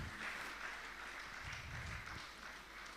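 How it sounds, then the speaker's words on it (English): An audience applauds a company COO being welcomed at a community humanitarian hub event, with steady, dense clapping that fills the room throughout and a faint voice underneath. "Please put your hands together for the COO."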